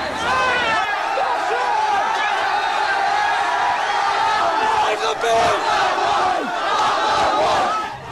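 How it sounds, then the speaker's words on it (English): A large riot crowd at Cronulla, Australia, roars and chants in a continuous wall of massed shouting, with individual yells and whoops rising over the din close by. "This was the crowd that greeted them."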